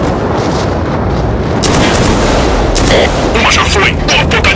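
Gunfire and artillery rumble through a battle in the video game Killzone 3, a dense, loud wash of shots and booms that swells partway through, with shouted voices mixed in.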